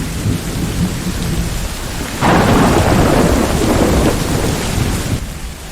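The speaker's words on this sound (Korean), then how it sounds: "천둥 소리가 울리자" A thunderstorm sound effect: steady heavy rain, then a loud rolling thunderclap swells midway and fades back into the downpour.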